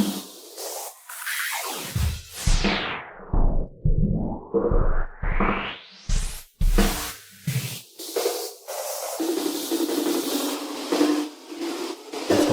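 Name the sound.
echo, distortion, riser and sweep effects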